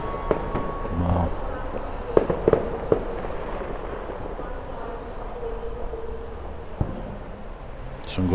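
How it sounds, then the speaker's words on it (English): Fireworks go off on bonfire night near Goodison Park, a scattering of distant bangs and crackles over a continuous outdoor hum, with several sharper pops mid-clip and a faint murmur of voices. "Some good fireworks going off there."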